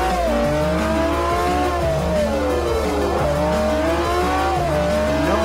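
Lamborghini Aventador tires squealing in a long skid on the Nürburgring in Forza Motorsport 4, a loud wavering screech over the constant roar of the engine, close and sustained.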